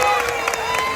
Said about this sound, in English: Let's give a big round of applause for Serena Aris